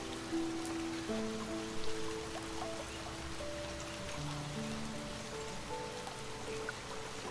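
Soft, steady rain falling and pattering on a surface, a gentle continuous hiss with faint tonal music threading through in the background.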